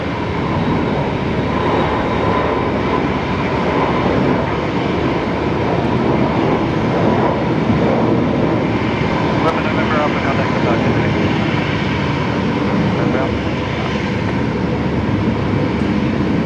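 An airplane on short final for runway 19 left at Brisbane Airport, its engine roar a steady, loud, broad rumble held throughout with little change, with talk faintly under it.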